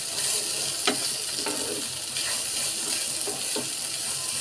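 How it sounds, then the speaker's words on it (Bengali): Fried potato pieces and bitter gourd with salt and turmeric being stirred in a pan, a steady close sizzle punctuated by a few short spatula scrapes. "এভাবে আমি 2 মিনিট পর্যন্ত নাড়তে থাকবো।"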